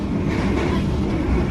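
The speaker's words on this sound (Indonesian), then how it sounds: "Ini kereta api Parahyangannya berhenti di stasiun Karawang ya teman." Parahyangan passenger train, a line running since 1971, at Karawang station, heard from inside as a loud, steady low rumble of the rolling carriage.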